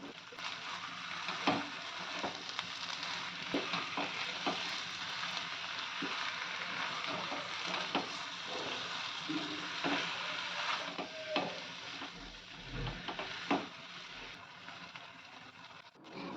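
Jackfruit curry with lightly fried onion and tomato paste sizzles in a pan while a spoon stirs and mixes it, giving a steady frying hiss broken by irregular scraping and clinking strokes.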